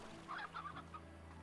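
Chickens in Slime Rancher give a few quiet soft clucks in a short burst over a low steady hum, faint and close together.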